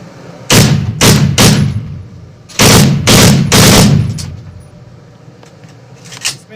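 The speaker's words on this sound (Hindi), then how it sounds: "पहले उन्होंने जो है वो सिंगल शॉट जो है फायर किया, और उसके बाद उन्होंने उसको ऑटोमेटिक के ऊपर जो है वो फायर किया।" Test firing of a weapon at an ordnance factory: two sharp, loud shots ring out near, then a tight rapid volley of three bursts. A lighter, fainter shot follows, all with no talking.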